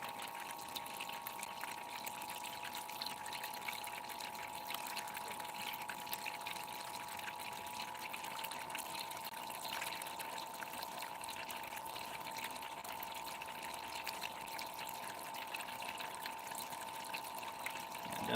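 Water pours steadily into a gold cleanup sluice, a continuous even rush with a faint tonal hum from a pump running underneath, unchanged throughout with no talking.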